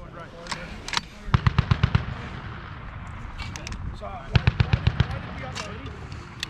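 Bursts of M2 .50 caliber machine gun fire at a US Army range: two sharp rapid strings of about six loud, booming shots each, plus a few scattered single reports, over a steady background hum.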